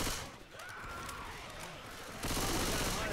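Rockets fired in a shooter video game crash and boom in a busy, layered burst of blasts and rapid fire, moderately loud, swelling harder toward the end with no voices.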